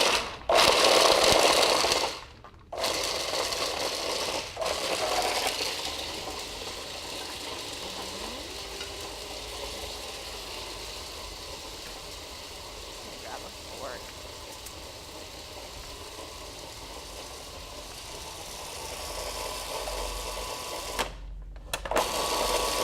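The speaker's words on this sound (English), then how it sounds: "I've got my dates, my sweetener in here, and I've got my pecans, and I'm just going to go ahead and grind this up." A food processor grinds dates and pecans in a steady, loud whirring drone that runs for about twenty seconds. The motor stops briefly and starts again, and the grinding tone shifts as the mixture turns sticky.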